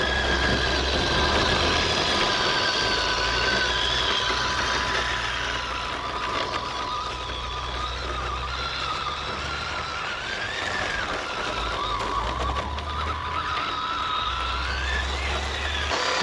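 A Tamiya Landfreeder QuadTrack RC car with locked diffs crawls over dirt, its electric motor giving a steady whining drone with a low rumble underneath, loud and continuous throughout with no talking.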